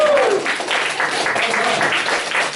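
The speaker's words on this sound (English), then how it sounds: "that's a round of applause for him" An audience breaks into a short burst of dense, continuous applause, with a brief vocal whoop at the start and the clapping holding at an even loudness to the end.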